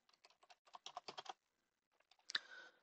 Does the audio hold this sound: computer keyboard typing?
yes